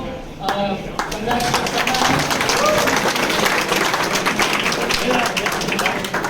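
An audience at a skit claps continuously in a dense, even burst of applause, with a voice speaking over it.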